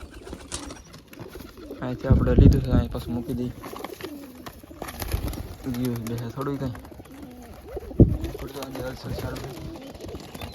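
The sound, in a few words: pigeons cooing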